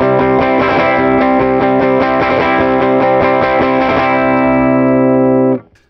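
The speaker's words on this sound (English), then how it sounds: "So you can hear it really squashes it, watch." Electric guitar runs through a compression pedal with a heavily squashed, even tone, a quick run of close picked notes settling into a sustained ringing chord that cuts off sharply near the end.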